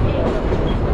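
A train rolls steadily on its rails during a scenic ride, a continuous loud low rumble with faint rhythmic clatter throughout, no talk.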